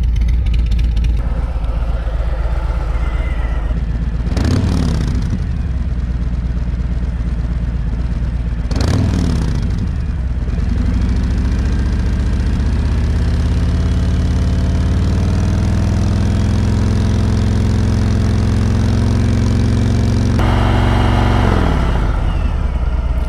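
A 2019 Harley-Davidson Road King fitted with a Rinehart DBX45 slip-on exhaust idles loudly up close, with two sharp throttle blips early on, then a sustained rev held steady before dropping back and a final blip.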